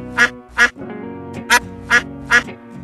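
A duck quacks five times in a steady, evenly spaced series, loud and close, with a faint sustained background tone between the calls.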